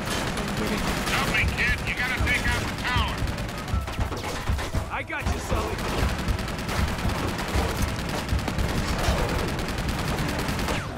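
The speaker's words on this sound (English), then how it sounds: "Damn, that's a fucking minigun." A minigun fires in Uncharted 2, a dense, loud, unbroken stream of rapid gunfire with other shots and explosions mixed in, while someone talks excitedly over it.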